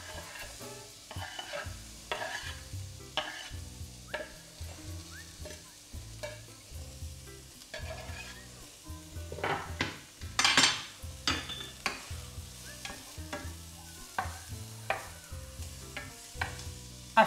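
Chopped onion sizzles in hot oil while being stirred with a utensil, steady frying hiss broken by repeated scraping and clinking strokes against the pan, close and moderately loud throughout.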